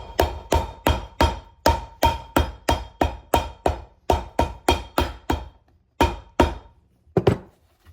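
Sharp hammer blows strike the soles of a pair of Lucchese cowboy boots, a steady quick run of close loud thuds with a short pause near the end, no talk.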